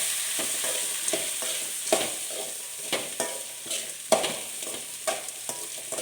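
Chopped onion, tomato and curry leaves sauté in a pan for a Chettinad brinjal kulambu, a soft steady sizzle broken by repeated scraping stirs and light utensil knocks, close and without speech.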